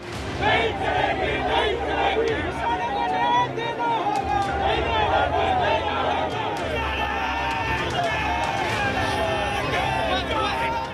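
A large protest crowd surging through the streets of Mumbai from Azad Maidan toward Raj Bhavan, a loud chaotic roar of shouting voices and slogans close by, continuous throughout.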